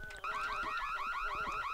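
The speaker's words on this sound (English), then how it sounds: "I think that I have alarms everywhere." A burglar alarm blares in The Sims video game, a loud warbling electronic siren rising and falling in rapid, regular pulses without pause.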